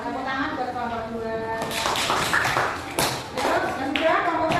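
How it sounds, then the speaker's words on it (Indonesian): A classroom group claps for group 2, a dense burst of hand claps and taps that starts after a brief moment and carries on to the end, close and fairly loud. "Tepuk tangan buat kelompok 2."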